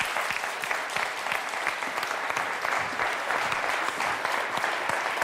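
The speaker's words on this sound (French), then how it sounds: "En tout cas, applaudissements quand même pour Dominique" Studio audience on a French TV quiz show applauds steadily, a dense, sustained wash of clapping from many hands at an even level throughout.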